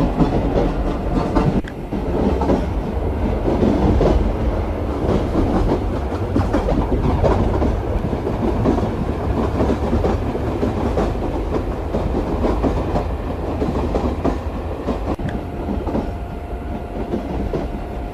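A Mumbai local train runs in a train passenger simulator game, with a loud continuous rumble and rhythmic clickety-clack of wheels that holds steady throughout.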